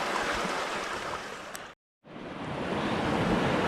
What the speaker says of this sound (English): I found this cool little sandy beach here right on the river